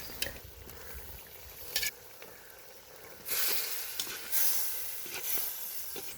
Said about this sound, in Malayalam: ഇനി നമുക്കിതിലേക്ക് നമ്മൾ വറുത്ത് വെച്ചിരിക്കുന്ന ചിക്കൻ ആഡ് ചെയ്ത് കൊടുക്കാം